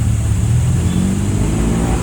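Steady road traffic below Padis Point at Cloud 9 in Antipolo City, a car engine revving as vehicles pass close by in a continuous, loud rumble.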